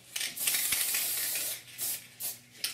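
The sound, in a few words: spray can spraying paint on model figure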